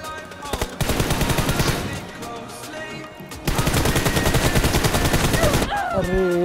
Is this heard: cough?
no